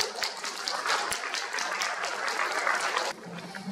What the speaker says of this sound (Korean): 우리 심찬 박수 한번 부탁드립니다